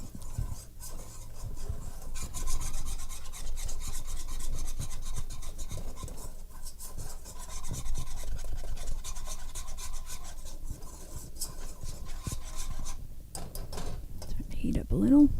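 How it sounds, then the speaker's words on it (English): A whisk scrapes steadily and rhythmically around a pan while a sauce for potatoes au gratin thickens over heat, keeping up a continuous rasping sound with a voice talking at times. "And then just keep whisking it until their 2 minutes is up."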